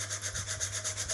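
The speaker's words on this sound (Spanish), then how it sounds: "Hay que lijar esto, preferentemente con" Sandpaper rubbed by hand over a small wooden cabinet being refinished as makeup furniture, giving quick, even back-and-forth rasping strokes, close and steady, with no talking.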